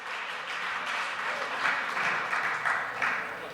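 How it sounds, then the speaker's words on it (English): Applause from an audience of college freshmen at an evening event, fairly soft and distant, building slightly and holding steady for a few seconds. "Give yourselves a round of applause."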